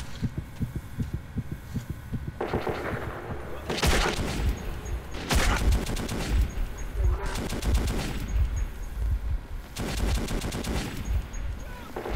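An AK-47 fires in Metro 2033 in several loud, close bursts of rapid automatic fire, spaced a second or two apart, with a rumbling background between the volleys.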